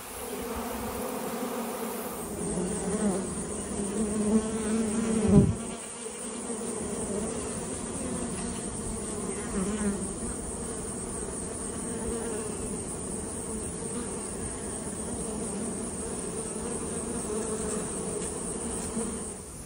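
Honey bees swarm around an open hive in a bee yard during a final honey pull, a dense steady buzz of many insects droning close by throughout, swelling briefly in the middle.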